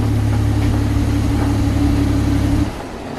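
A turbocharged Ford Falcon FG fitted with a Turboside intake idles steadily and close up, with a strong low rumble that cuts to a quieter, lighter idle near the end.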